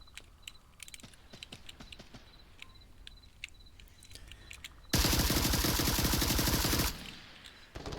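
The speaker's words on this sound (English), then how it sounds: "Lots of shots coming across." Gunfire in a competitive VR shooter game: scattered distant shots and clicks, then a loud, sustained burst of rapid automatic fire for about two seconds before it drops back to sparse pops.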